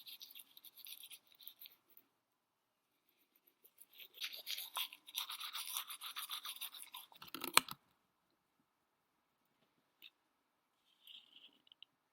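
Teeth being brushed with charcoal whitening paste, a soft scratchy scrubbing that comes in short bursts and then runs steadily for a few seconds before stopping, followed by faint brief rustles.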